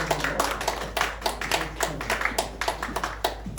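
A youth group audience at a Sunday church service claps to congratulate a gift winner, uneven clapping from a modest crowd with sharp individual hand claps close by, steady throughout.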